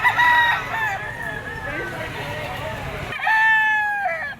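Gamecock roosters at a poultry auction market crow loudly nearby, one long crow at the start and another after a pause, over background chatter and bird noise.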